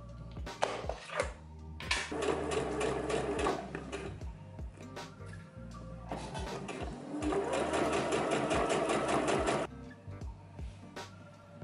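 Serger overlocking the edge of a pair of trouser waistband pieces, a fast steady mechanical whirr in two long bursts with short stops and clicks between.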